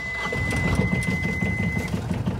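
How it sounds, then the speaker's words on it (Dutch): The diesel engine of a Beneteau First 25.7 sailboat cranks and catches, a mid-pitched mechanical churn with a steady high whine over it, close and fairly loud. "Het starten van de motor gaat eigenlijk heel makkelijk."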